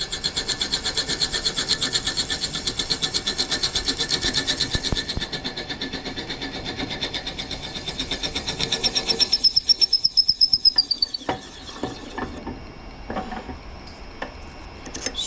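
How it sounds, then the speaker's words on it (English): Drill bit boring through wood on a lathe turning at about 250 to 300 RPM, a close, loud, rhythmic rasping grind that runs steadily, then gives way to squealing and scattered knocks near the end, with no talking. "We're going to drill this all the way through."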